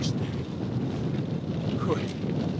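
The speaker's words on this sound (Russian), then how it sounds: "Ветер, правда, поднялся." Low, rumbling wind buffets the microphone continuously while cycling, a dull roar filling the whole clip.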